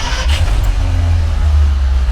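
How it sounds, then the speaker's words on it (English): A 1953 Packard Clipper's straight-eight engine idling smoothly, a loud, steady low rumble heard close up and alone, with an even, unbroken hum. "listen to this engine."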